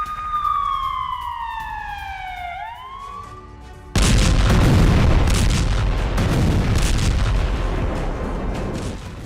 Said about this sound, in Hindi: दक्षिणी लेबनान में इजरायल की बम वर्षा हुई है।